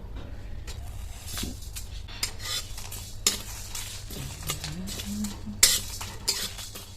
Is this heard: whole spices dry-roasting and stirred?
yes